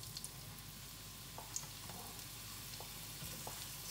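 Onion and garlic sautéing in olive oil for a homemade adobo, a soft, faint bubbling sizzle with occasional small pops and light stirring, heard close and on its own.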